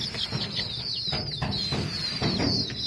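Chickens, some sick with fowl pox, cluck in short, scattered bursts over a constant background hiss and low rumble, several birds close by.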